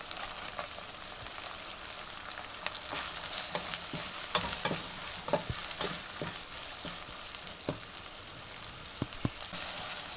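Tomatoes sizzle in a hot pan for chicken pulao, a steady close frying hiss broken by frequent sharp scrapes and clicks of stirring.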